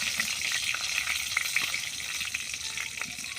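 Bay leaf, cinnamon and cardamom sizzle in hot oil in a kadai in a rural kitchen, a steady, close, fizzing fry with no talk.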